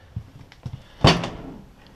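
A deep full-extension drawer on gliders opens in the kitchen of a 2015 Airstream Classic 30J travel trailer: a few soft taps, then one firm sliding thump that tails off.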